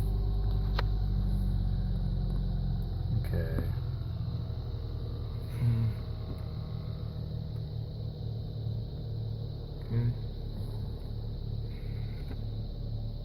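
A low, steady car engine rumble idles around 1,000 RPM after throttle body cleaning, with a few brief clunks and a voice murmuring twice over it.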